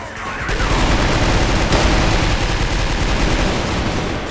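Rapid, dense gunfire in the video game CrossFire rattles continuously for several seconds, a loud sustained burst of shots with no pauses.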